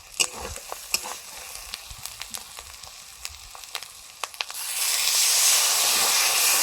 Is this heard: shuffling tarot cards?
no